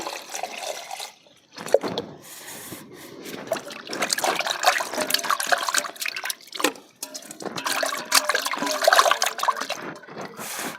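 Water poured over raw chicken to wash it runs and trickles steadily for several seconds, splashing and dribbling with uneven bursts, close by and fairly loud, with no talking.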